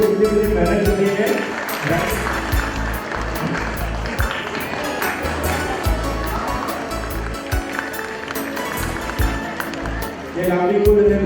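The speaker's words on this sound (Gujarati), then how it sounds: "આપણે કેવળ તાળીઓ પાડવાની છે." An audience applauds at a school annual function, with a loud, sustained crowd clapping that runs the whole time under a man's speech.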